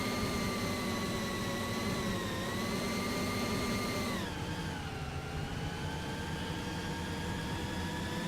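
A utility truck engine in Farming Simulator 2015 drones steadily at high revs while driving fast, its tone dropping briefly partway through as if shifting gear, loud and continuous with no talk.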